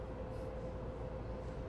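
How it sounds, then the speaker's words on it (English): Steady low rumble and hum of a ride on the Las Vegas Monorail, with a constant tone running through the droning noise and no voices. "This monorail continues northbound."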